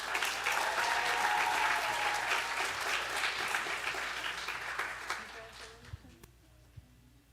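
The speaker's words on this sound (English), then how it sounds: "A round of applause for everyone." Audience applause at a college honors program awards ceremony, a full round of clapping that gradually thins and dies away, leaving a few scattered claps.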